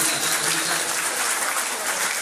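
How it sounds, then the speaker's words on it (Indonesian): A crowd applauding at an outdoor Easter church gathering, dense, continuous clapping from many people that stays loud and even for a couple of seconds. "Tepuk tangan lagi buat Tuhan"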